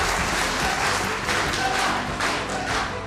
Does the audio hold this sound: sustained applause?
yes